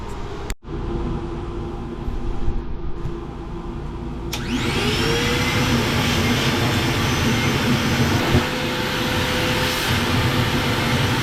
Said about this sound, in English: this little wet dry vac has really come in handy so far.